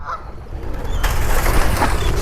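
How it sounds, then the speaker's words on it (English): Pigeons calling amid a dense background of outdoor noise in a Phoenix neighborhood, their short cries rising over a steady low rumble. "Oh, pigeons."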